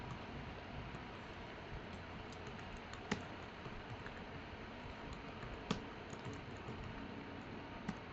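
Rapid keystrokes on a computer keyboard during typing exam practice, a steady faint clatter of clicks with a few sharper key hits, no voices.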